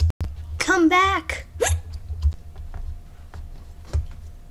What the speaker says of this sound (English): Help me with my hiccup problem.